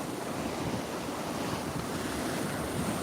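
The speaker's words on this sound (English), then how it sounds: "You come here and you see an ocean," Ocean waves wash steadily onto a warm Gulf Stream beach, a continuous broad rushing surf heavily mixed with gusty wind buffeting the microphone, with no clear separate wave breaks.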